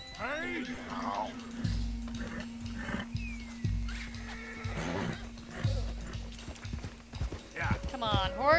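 Clopping hooves and repeated neighs from a horse in Red Dead Redemption 2, heavy hoofbeats in a loose rhythm with loud whinnies at the start and end, while a player talks over them.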